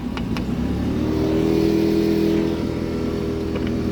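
A carbureted engine revs steadily, probably a motorcycle, at a swap meet held at Portland International Raceway. Its loud, sustained mid-range roar holds through the clip, swells slightly near the middle, then eases a little toward the end.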